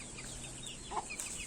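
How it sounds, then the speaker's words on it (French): A hen clucks softly near her chicks, giving a couple of brief low clucks over faint peeping and steady background hiss. "ma poule avec ses poussins qui fait très attention à eux comme la prunelle de ses yeux"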